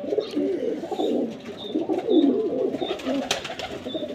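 Soft, low cooing from a Lahore-style Teddy high-flying pigeon repeats steadily, close by, with faint higher chirps in the background.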